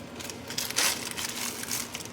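A plastic bag holding a honey container crinkles as it is handled in a kitchen, close and fairly quiet with a louder rustle partway through.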